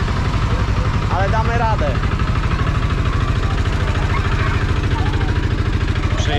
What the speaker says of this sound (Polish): Tu w trójkę jadą na motorku